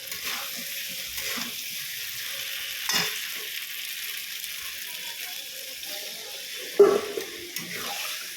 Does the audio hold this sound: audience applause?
no